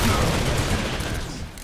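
Dense, sustained volley of gunfire rumbles in a video game firefight as shots concentrate on a single enemy axe unit, loud and continuous before tapering slightly at the end, with no voices.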